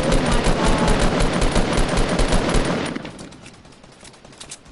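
Rapid automatic gunfire in a video game, a loud sustained rattle of shots for about three seconds, then thinning out into scattered, quieter bursts and trailing echoes.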